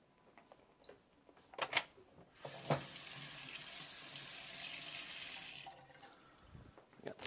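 A kitchen tap runs into a sink as several varieties of fresh tomatoes, including cherry tomatoes, are rinsed, with a steady gush of water for a few seconds between small clunks and handling noises.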